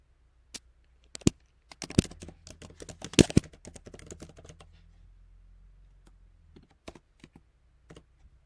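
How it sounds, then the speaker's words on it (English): Someone types on a computer keyboard, clusters of quick key clicks separated by short pauses, close and fairly quiet in an otherwise silent room. "simply type in your title"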